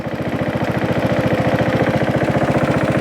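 A Craftsman lawn tractor engine, abandoned and sitting five years, runs in gear with a loud, steady pulsing chug, a fast even rhythm of low thumps close to the machine.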